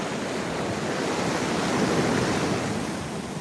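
Ocean surf and steady wind at Juno Beach in Normandy, a continuous broadband wash of breaking waves with wind rumble on the microphone, loud and unbroken throughout with no voices.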